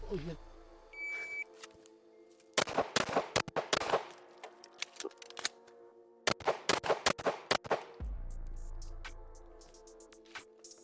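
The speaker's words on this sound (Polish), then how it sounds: "Teraz strzelamy tak. Cztery strzały, wymiana magazynka, cztery strzały." Sharp pistol gunshots fired in quick bursts of four, a short pause with clicking handling noise of a magazine change between groups, then another rapid string of shots nearby.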